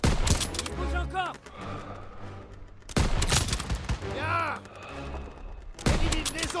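Rapid bursts of rifle and machine-gun fire in a Call of Duty WW2 battle, loud sharp volleys recurring every few seconds with scattered shots and clatter between them, voices faintly mixed in.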